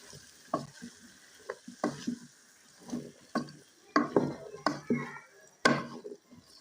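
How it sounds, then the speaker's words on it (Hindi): Bottle gourd pieces with two whole green chillies being stirred in a pan, giving a run of close, irregular scrapes and knocks of a spoon over a light sizzle, with no talking. "अभी लौकी का कद्दू ऐड करेंगे, मिक्स करेंगे।"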